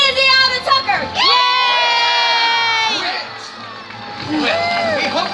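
A cowboy show audience of children and adults cheers, screams and whoops, loud and sustained, with high voices shouting over one another at close range.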